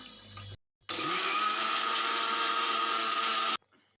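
Electric mixer grinder blending jackfruit juice with milk, sugar and nuts, a loud steady whirring motor running for about three seconds after a brief pause, then cutting off.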